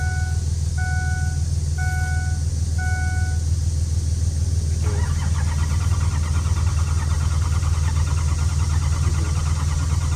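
A Ford 6.0 Power Stroke diesel truck fitted with a 6.7 starter cranks while trying to start, a loud continuous mechanical churn that follows several repeated beeps and runs on without catching.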